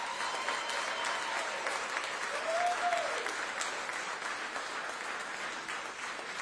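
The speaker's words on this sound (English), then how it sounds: "Can y'all give them a round of applause?" A crowd at a Fulton County election victory speech gives a steady, fairly distant round of applause, continuous clapping with a brief tonal whistle or cheer rising through it.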